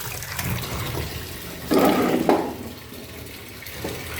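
Keora fruit rinsed in water for pickle-making, with a steady low splashing and running-water wash, a louder surge of water in the middle and a quieter trickle around it, no talking.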